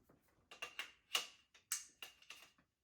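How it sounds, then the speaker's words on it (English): An AR-15 upper receiver is pinned back at the hinge point, heard as a quiet series of about eight sharp metallic clicks and taps in an irregular rhythm, close up and alone. "get it pinned back in like so at the hinge point"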